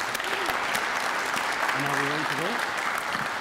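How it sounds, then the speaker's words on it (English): An audience at an agri-food debate semi-final claps for the event sponsors, a steady wash of applause with a voice speaking briefly over it partway through. "Can we give a round of applause, please, to the sponsors of today's event?"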